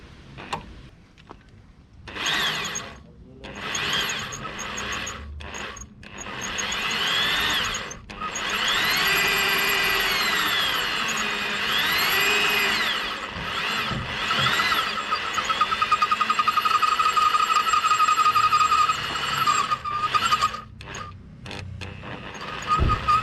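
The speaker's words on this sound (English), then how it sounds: "I got myself a 4mm drill bit now. I'll try to do it with that." A hand drill with a 4mm bit works at a broken wheel bolt on a Peugeot 407, whining in sustained bursts that rise and dip in pitch, broken by short pauses and clicks, close and fairly loud throughout.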